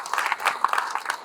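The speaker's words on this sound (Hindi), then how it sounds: "जोर से ताली बजाओ यार" Audience applause at an event in an auditorium, a steady wash of many hands clapping close by for about a second, uneven and dense, with a few sharper claps standing out.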